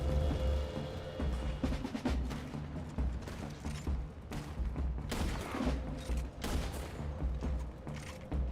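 Enemy gunfire in the western shooter Red Dead Redemption 2, a rapid irregular barrage of sharp shots and cracks over a low rumble, continuing without break for several seconds.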